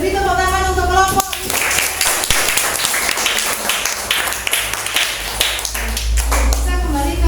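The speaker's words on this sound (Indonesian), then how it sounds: "Beri tepuk tangan untuk kelompok." Classroom students clapping for a group after a lesson, a burst of brisk, fairly loud applause from a roomful of children with a few voices chattering over it, then the clapping fades back into room noise.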